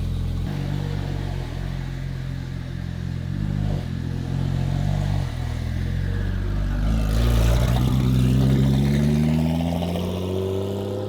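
A Porsche 911 Turbo being driven on the road, its engine droning steadily at close range with rising harmonic sweeps toward the end as it accelerates and revs; no talking.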